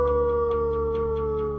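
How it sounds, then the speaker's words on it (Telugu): A dog howls in one long, steady wavering tone with strong harmonics, loud and close, lasting through the whole moment with no talk. "జానీ అంటే కుక్క"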